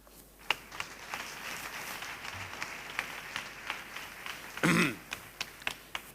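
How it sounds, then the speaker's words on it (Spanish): Sparse, scattered claps from a conference audience at an education council event, faint and irregular, with a brief louder rustle or bump midway. "Un aplauso."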